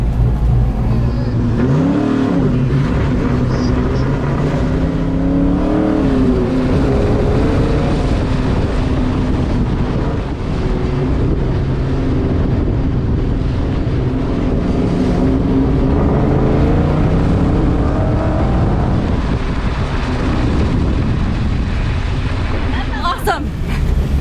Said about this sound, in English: Also still trying to figure out my launch. My RPMs aren't getting up where I want them, but here goes run 4.